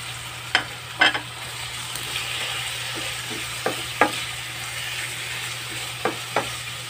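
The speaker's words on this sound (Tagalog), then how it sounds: "unahin ko muna luto ang patatas saka yung carrots bago ko ilagay mamaya ang itlog" Potatoes and carrots cooking in a pan with garlic, with a low sizzle under several sharp scraping stirs of a utensil spaced through the stretch, and no talking.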